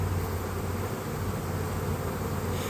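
Honey bees buzz densely around a hive of a small colony, a continuous close, loud drone of many wings with a steady low hum and no voices.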